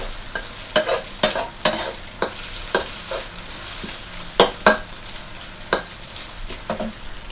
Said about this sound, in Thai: ผัดลงไปด้วยกัน ผัดให้หอมเลยนะคะ